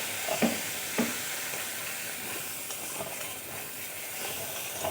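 Spice paste loosened with a little water and sautéed in a pan for a taro stolon dish, giving a dense continuous sizzle with occasional soft stirring scrapes, close and steady throughout, no voices.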